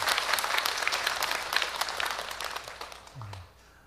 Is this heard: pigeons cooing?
no